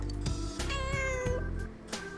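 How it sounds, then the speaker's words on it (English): Cat in the Persona 4 Golden video game gives a couple of clear, bright meows close up, a longer one followed by a shorter one, alone without speech. "Oh, there's a cat."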